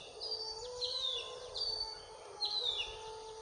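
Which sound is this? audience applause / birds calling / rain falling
birds calling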